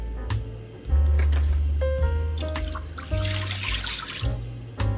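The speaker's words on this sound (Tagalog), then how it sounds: "Kailangan malinis yung marble potatoes. Kasi lulutuin ko to ng may balat." Tap water runs in bursts over red marble potatoes being washed in a sink, with intermittent clinks and splashes up close and flow starting and stopping several times.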